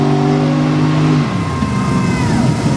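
A mega truck at a Texas race climbs back up a hill, its engine loud and close, holding a steady revving drone that drops in pitch partway through before roughening into a throaty growl.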